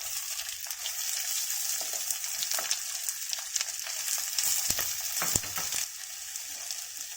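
Shallots fry in hot oil for a mutton curry with a steady, hissing sizzle, broken by sharp scraping clicks from stirring in the pan.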